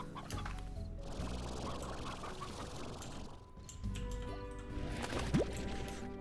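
Chickens clucking on a slime farm in the video game Slime Rancher, steady fowl chatter and clucks over game music, with a brief rising squawk near the end.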